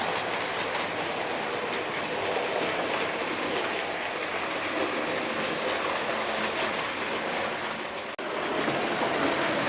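A Bachmann model train runs around a layout circuit, its steady rolling clatter close and continuous for about ten seconds with one brief dip near the end.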